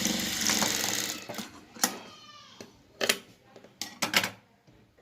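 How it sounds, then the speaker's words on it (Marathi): A sewing machine double-stitches a folded seam on a cloth face mask in short, quiet bursts of rapid mechanical clatter, separated by brief pauses, with faint handling sounds between them. "एकदा दुमडायचं आणि परत शिलाईवरती दुमडून डबल शिलाई मारून घ्यायची"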